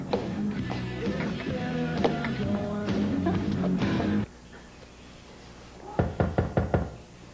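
A fast run of about five loud, hollow knocks strikes a door, close by, following a stretch of muffled background sound.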